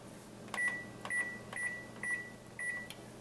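A kitchen timer chirps five short electronic beeps at an even pace while being set for a pot of oats boiling on the stove, each beep close and clear above a quiet room hum.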